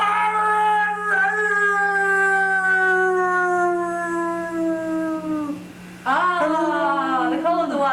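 A man imitates a dog's howl, sustaining long, loud sliding tones that fall slowly, then breaks off and starts a second rising howl, in a theatre production.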